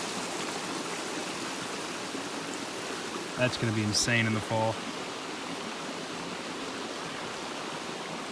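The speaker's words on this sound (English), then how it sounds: "Got this amazing little creek right here." A small creek near Lake Superior at Copper Harbor rushes steadily and close by, with a brief stretch of talking partway through over the constant flow.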